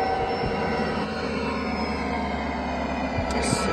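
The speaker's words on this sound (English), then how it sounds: "My god, how noisy is this engine noise?" Diesel engine drone of an SD40-2 locomotive in the Trainz railway simulator: a loud, steady, unbroken rumble with a constant mechanical hum and no speech.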